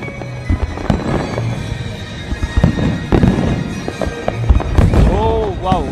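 Diwali fireworks bursting over Dubai, a steady barrage of loud cracks and booms with crackling and a few rising whistles near the end, mixed with crowd chatter and background music.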